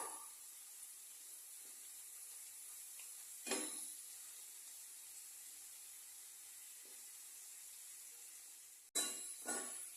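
Chips frying in a pan, a faint steady sizzle and hiss with a few sharp stirring scrapes standing out, the last ones near the end loudest.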